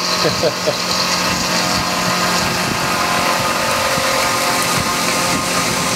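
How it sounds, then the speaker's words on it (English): A machine cuts a flywheel down into an aluminum tooling plate, a steady close mechanical whine and hum with light scraping ticks scattered through it. "I wanted to make sure I cut all the way down into my tooling plate here so that the corner should pop off."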